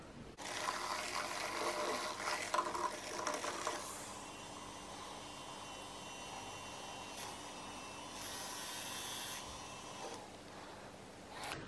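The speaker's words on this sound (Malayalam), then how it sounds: "അപ്പം ഞാൻ ഇനി 2-3 ബ്രഷ് കൂടെ ഒന്നുകൂടി കഴുകി കേട്ടോ" Makeup brushes rinsed under running water make a soft, steady hiss of flowing liquid with brief louder splashy bursts, fairly faint and close, with no talking.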